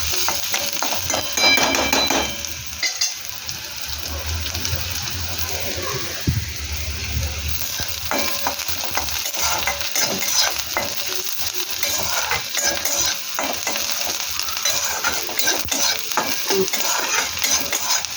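Ingredients for kochur loti (taro stolon) prawn curry frying and being stirred in a pan, a steady sizzle with scraping stir strokes throughout, close and fairly loud, with a bit of background voice.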